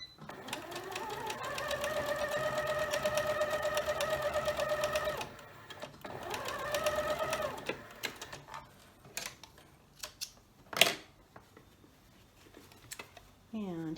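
A sewing machine stitching a quilt block seam, a close, steady whirring run of several seconds, a pause, then a second shorter burst, followed by small handling clicks and rustles.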